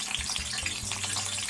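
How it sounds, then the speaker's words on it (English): Oil sizzling and crackling in a pan as fish fries, the oil seasoned with scallion, a close, steady hiss of bubbling with small pops throughout, moderately quiet. "When I'm frying my fish, I like to season the oil with scallion"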